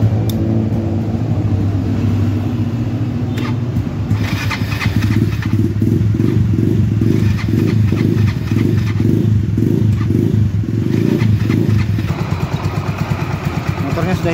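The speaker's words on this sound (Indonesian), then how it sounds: "Motornya sudah hidup" Yamaha Xeon RC motorcycle engine running at a steady idle after starting, a close, loud, even mid-pitched putter with slight rhythmic pulsing throughout.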